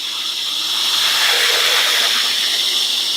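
A variable-speed dog grooming dryer blows a strong blast of air with little heat, a loud, continuous, even rushing hiss held close throughout.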